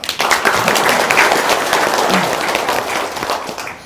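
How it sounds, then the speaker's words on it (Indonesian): Audience applause and clapping in an Indonesian gathering, a dense, steady wash of many hands lasting several seconds and tapering slightly at the end. "Tepuk tangan dulu dong"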